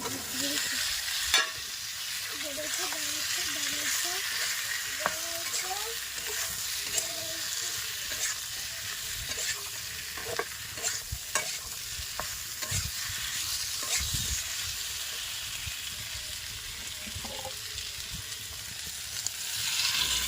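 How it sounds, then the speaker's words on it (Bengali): Pulao frying and being stirred in a pan with potato and eggplant, giving a steady sizzle with repeated scraping stir strokes throughout, close and fairly loud, with no talking. "পোলাওটা কষে নেবো আলু বেগুনটা দিয়ে দেবো"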